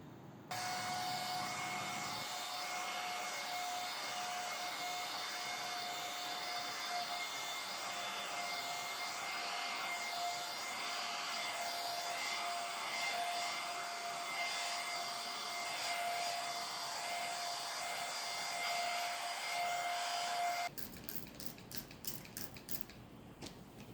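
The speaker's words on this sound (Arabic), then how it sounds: "بقت بس الأرضية راح أكنسها بالمكناسة الكهربائية" A vacuum cleaner runs on a living room floor with a steady, loud, droning whine for about twenty seconds, then cuts off, leaving a few clicks and light handling noises.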